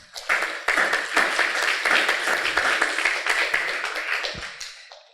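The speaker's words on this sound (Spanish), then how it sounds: "Por favor, un aplauso" A small audience at a panel on Quechua literary publishing claps, with distinct individual hand claps forming a lively close burst that starts quickly, holds steady, and then stops abruptly.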